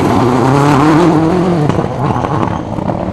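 Marcus Grönholm's rally car in the 2004 WRC Rally of Greece spinning on a muddy surface, its engine roaring loud and close with the pitch sliding around, then breaking into rougher, uneven revving.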